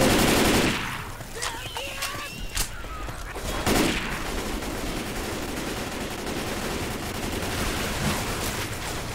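Gunfire in the Left 4 Dead zombie shooter, a loud opening burst followed by scattered sharp shots over a steady noisy battle bed.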